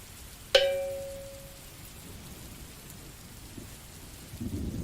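Thunderstorm with rain: one sharp, ringing crack of thunder near the start, then a steady low wash of rain and rumble that swells slightly toward the end, with no talking.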